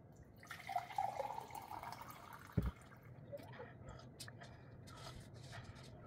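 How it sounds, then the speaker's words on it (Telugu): Hot water is poured for drinking, a faint trickling and filling sound with a soft clunk midway, quiet and close with low background noise. "Hot water తీసేసుకుంటున్నా."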